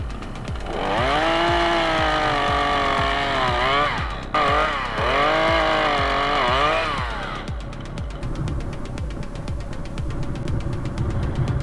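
A chainsaw roars at high revs, its pitch dipping and rising as it bites into a tree, then drops to a rough, sputtering idle.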